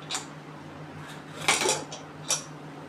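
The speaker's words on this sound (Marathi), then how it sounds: "चला कुकर उघडून बघूया आपण दलिया झालं का।" A pressure cooker lid is opened after cooking dalia, giving a few sharp metallic clanks and scrapes of steel against steel, spaced apart over a quiet kitchen background.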